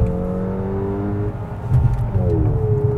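A 2010 Volkswagen GTI Mk6 with its 2.0-litre turbocharged four-cylinder drops a gear on the paddles, the engine note climbing in pitch then settling, heard steadily from inside the cabin with some road rumble.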